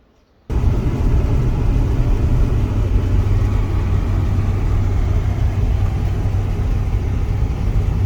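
A car cruises along rural roads in Russia, its engine and tyre rumble starting abruptly after a brief quiet moment and then holding steady and loud, with a faint low hum running beneath.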